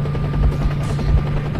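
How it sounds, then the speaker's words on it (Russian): A military helicopter in the video game S.T.A.L.K.E.R. Shadow of Chernobyl gives a steady, loud rotor drone and low hum that holds throughout the brief stretch. "А, это все вертолет."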